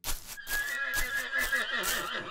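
A horse in a medieval settlement-building video game whinnies loudly and close, a long shrill neigh over rhythmic clip-clopping hooves.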